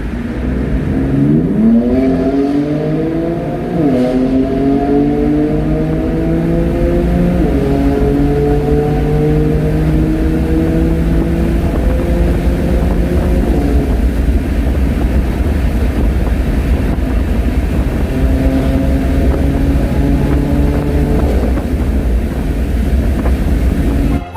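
A BMW M4 engine accelerates hard inside a tunnel, revving loud and near through repeated rising gear pulls, with the roar echoing off the walls over a steady road rumble.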